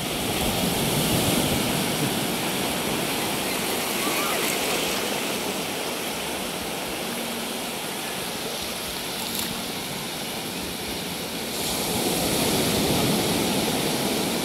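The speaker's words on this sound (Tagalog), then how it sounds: "Kalakas ng alon." Strong sea waves break on a beach at Morong, Bataan, making a loud, continuous washing roar that swells near the start and again toward the end.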